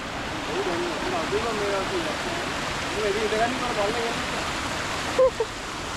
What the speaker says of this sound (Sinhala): මේ මෙතනින් වතුර පාර සැලටම යනවා ඇතිනේ